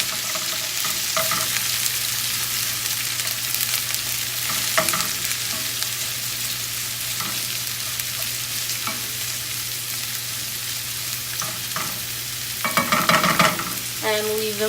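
Steady frying hiss from chopped onions in a frying pan, with occasional utensil scrapes and stirring clatters, growing busier and louder near the end.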